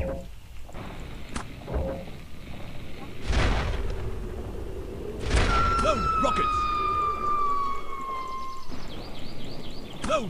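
Rockets fire from airship cannons in the video game Air Buccaneers: sharp booming launches and whooshes, followed by a long falling whistle, with voices shouting over the action.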